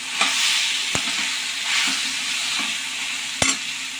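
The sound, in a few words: brinjal and tomato frying in a pan, being stirred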